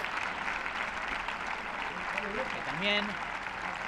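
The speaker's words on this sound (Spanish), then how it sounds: "entra con estos aplausos que escuchan de fondo del público" Stadium spectators at an Athletic Club vs Real Madrid women's Primera Iberdrola football match give steady applause as a player comes on as a substitute; the clapping sounds distant and continuous beneath a commentator's voice.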